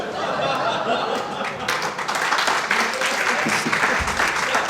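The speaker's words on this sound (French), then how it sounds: "Vous êtes en train d'applaudir un mime de vagin, bravo" Audience applause at a French stand-up comedy show, dense steady clapping with some chuckling and laughter mixed in, lasting throughout.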